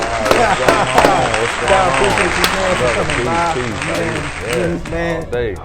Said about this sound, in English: Give this man a round of applause, standing ovation.